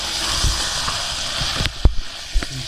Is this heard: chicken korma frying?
yes